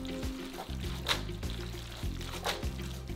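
Pasta water ladled off the heat into a provolone cheese sauce, a soft splash and trickle of liquid with faint stirring, quiet and close.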